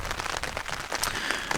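Steady rain patters on a tent during a wet wild camp in the mountains, a dense, even hiss of drops with occasional louder taps, close and continuous with no talk.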